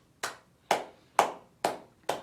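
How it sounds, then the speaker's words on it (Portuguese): Five slow, evenly spaced hand claps, close and crisp, alone without other sound. "Das minhas mãos que estão batendo palmas"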